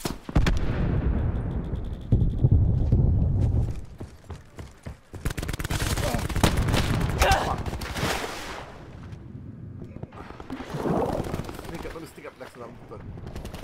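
Gunfire crackles in Call of Duty Black Ops 4, with dense rapid bursts, a heavy blast like a grenade, and further volleys at close range, loud and alone.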